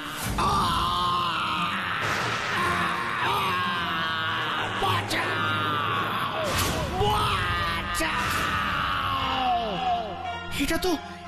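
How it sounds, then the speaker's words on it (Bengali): A cartoon scientist screams and groans in distress, loud and continuous, with strained, wavering cries under busy animated background sound for about eleven seconds. "ওই শোন, ওই শোন, কার যেন চিৎকার শোনা যাচ্ছে।"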